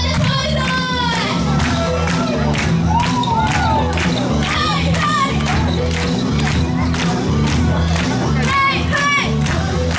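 Festival crowd at the Kuroishi Yosare summer dance festival clapping hands in steady rhythm, a continuous busy wash of claps with shouted chants and a voice calling out over the top, all close and loud.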